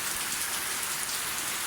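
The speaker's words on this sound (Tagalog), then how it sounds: "Kasugang ulan. Umuulan." Steady rain pours down in a dense, even hiss of drops hitting surfaces, continuous and fairly close without any voices.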